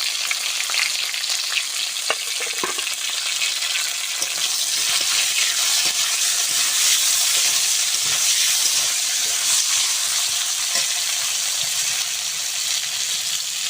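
Vegetable stalks fry in leftover fish oil with a loud, continuous hissing sizzle, close up and unbroken, marked by occasional clicks and scrapes of stirring in a rustic Bengali kitchen.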